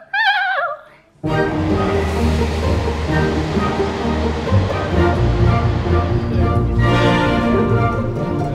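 An ice-cold river just above freezing rushes loudly and steadily close by, a dense broadband roar that starts abruptly after a brief high whistle-like sound and continues without pause.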